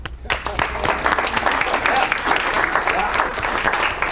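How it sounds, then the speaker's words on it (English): An audience at a real estate wealth seminar bursts into applause, loud and dense clapping starting abruptly and holding steady, with faint crowd noise mixed in. "Round of applause, please."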